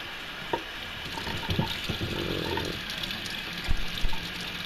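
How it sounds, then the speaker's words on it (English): Hot tap water runs into a plastic bottle to rinse it out, a soft gurgling flow under a steady hiss, broken by a few light knocks and clunks. "I always wash these things out with hot water first"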